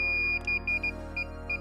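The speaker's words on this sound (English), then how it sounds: "And now it starts beeping continuously." A DJI FPV controller in linking mode gives a thin, steady electronic beep, repeating in short evenly spaced pulses, clear and close against a faint hum.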